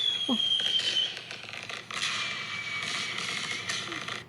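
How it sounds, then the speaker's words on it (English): A small fireworks show pops and crackles outdoors, with a whistling launch and a few sharp bursts followed by sustained crackling. "Little fireworks show for all of you out there"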